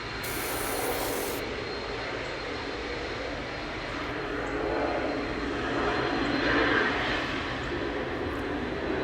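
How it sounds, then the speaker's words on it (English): An airplane roars overhead, a broad steady rumble that swells louder in the middle and lingers throughout, with no talking. "Sorry about the airplane noise."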